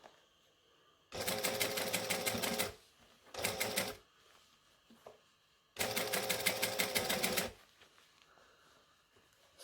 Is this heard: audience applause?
no